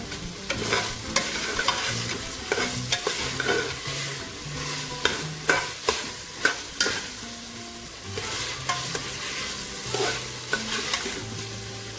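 Lentil peas pelau, a Grenadian one-pot dish, frying in a pot with steady sizzle while a spoon stirs and scrapes, leaving sharp clacks against the pot at irregular intervals; close and alone, with no talking.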